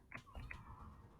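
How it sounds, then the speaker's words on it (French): A short, quiet meow from a cat, a couple of soft rising cries close by in a calm room. "le miaou, ça c'était le chat"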